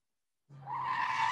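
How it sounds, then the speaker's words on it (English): Breaking news sounder on a sports radio show, a jingle that bursts in after a moment of silence with a rising whoosh and a sustained bright tone, loud and alone with no talk over it. "We're going to hit that breaking news sounder one more time."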